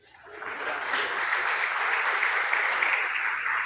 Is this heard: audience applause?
yes